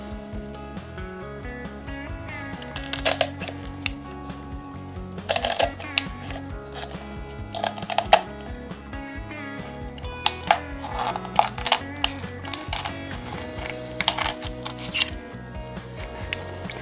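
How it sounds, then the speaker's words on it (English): Kitchen shears cutting along a raw chicken's backbone to spatchcock it, a series of crisp crunching snips and clicks through bone and skin, irregular and close, with pauses between cuts. "So then you grab your shears."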